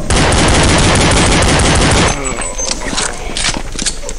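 Dense automatic gunfire from Counter-Strike 1.6 roars loud and continuous for about two seconds, then breaks into scattered single shots and short bursts over faint background noise.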